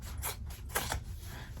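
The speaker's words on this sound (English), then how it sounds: "Then I cut across here." Scissors cut across fabric for an in-the-hoop zipper bag, giving two or three quick, quiet snips close up.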